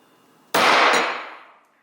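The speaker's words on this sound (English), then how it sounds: "let me use a regular punch with a hammer" A single sharp metallic clang from a hammer striking a punch, ringing out and fading over about a second.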